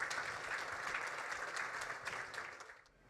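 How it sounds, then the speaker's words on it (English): The audience at a small business grant contest event gives the four finalists a round of applause. The steady, full clapping holds, then thins out at the end. "Let's give them one more big round of applause,"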